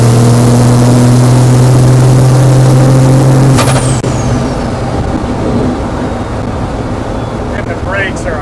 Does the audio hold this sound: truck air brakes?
yes